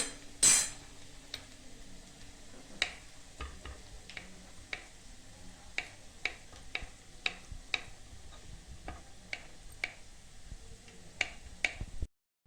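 Boiled potatoes being chopped with a knife on a board, a quiet series of irregular sharp taps and clicks spread across the clip, close but faint, with no one talking.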